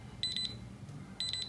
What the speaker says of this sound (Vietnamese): Mình sẽ tắt báo thức một chút.